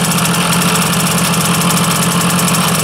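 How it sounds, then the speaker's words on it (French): A Zündapp KS 50 watercooled moped engine idling high, a steady, dense two-stroke buzz with fine rapid pulsing, loud and close with no pauses. "Le ralenti est toujours un peu haut, mais croyez-moi, dès que ça chauffe un peu, il redescend."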